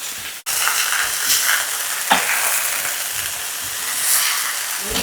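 Garlic and shallots sauté in a hot pan, a loud, close, continuous sizzle broken by a brief drop near the start, with a few stirring scrapes and no one talking.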